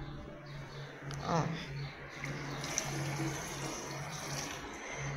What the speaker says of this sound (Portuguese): esses multiusos aqui, ó. Eu coloco na água assim